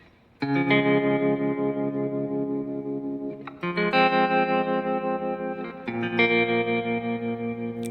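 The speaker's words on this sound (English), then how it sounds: "and then with that tremolo" A sustained synth chord pulsing with a steady, fast tremolo wobble, changing chords twice, loud and alone with no voices.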